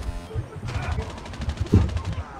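Rapid automatic gunfire in COD Mobile, bursts of shots with a heavy thump near the end, close and loud, under faint game noise.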